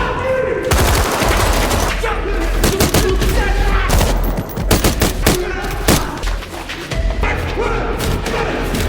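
Loud bursts of gunfire, rapid volleys of shots and thumps overlapping, close and intense, with voices faintly mixed in.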